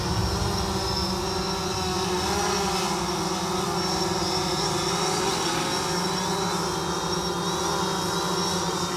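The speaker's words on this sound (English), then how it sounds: "Dan, fly your drone to that cone there." A small drone hovering and flying during a training session, giving a steady buzzing propeller whine that holds level and fairly loud for the whole stretch, with no talking.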